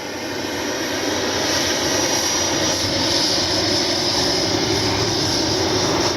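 An FMS Avanti S 90mm electric ducted-fan RC jet flies past with its flaps down, a loud, steady, high-pitched whine that holds throughout with no talking.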